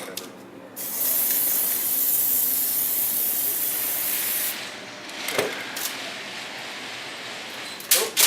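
A spray can hisses in one long, steady, loud burst during a Halo 4 Gravity Hammer prop build, followed by a couple of shorter sprays.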